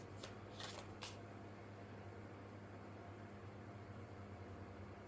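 A deck of tarot cards is shuffled in a few quick riffling bursts at the very start, then only a steady low background hum remains.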